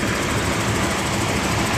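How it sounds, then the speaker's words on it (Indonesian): A truck engine runs steadily and close by, a dense, even low rumble with a constant hiss over it and no break across the short stretch. "Kalau mesin ini ya, lumayan garing ya"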